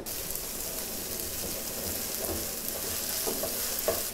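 Steady hissing sizzle of garlic-ginger paste frying in a hot pan, with faint stirring scrapes and small pops throughout, close and continuous.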